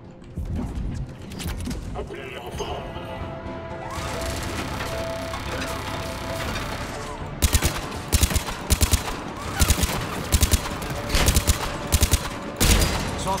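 Cannon fire in the video game Mass Effect 3 arrives as a rapid series of loud, sharp bursts over a droning battle mix, mostly in the second half, while a player talks.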